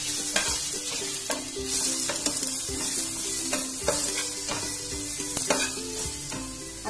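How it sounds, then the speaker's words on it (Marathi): Potato slices sizzle in a pan with garlic paste and curry leaves, a loud continuous hiss broken by frequent sharp scraping clicks of a spatula stirring against the pan. "लसणाची पेस्ट टाकायचंय, कढीपत्ता टाकून घेतलेला आहे। आता हे स्लाइस टाकून घ्यायचे।"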